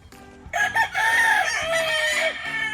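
A spangle gamefowl rooster on a backyard breeding farm in Lipa, Batangas crows in one long, loud, near cock-a-doodle-doo, with other fowl crowing and clucking in the background.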